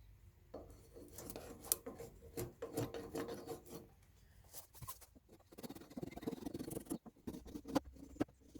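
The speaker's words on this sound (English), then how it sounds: "So just give this a bit of a shave down." Dry wood rasped smooth by hand for a friction fire, a close series of uneven scraping strokes with short pauses between them.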